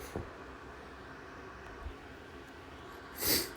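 A quiet room with a couple of small sniffs, ending in one louder, sharp nasal sniffle close to the microphone.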